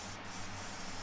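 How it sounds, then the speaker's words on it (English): An airbrush sprays water in a steady, close, hissing stream for about a second, a continuous airy spray with no pauses. "I'm gonna spray some water through the front there."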